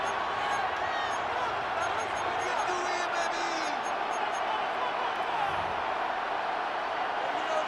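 Stadium crowd in Madden NFL 26 roaring steadily as a broad, continuous wash of cheering beneath a game commentator's voice, constant and loud across the whole stretch.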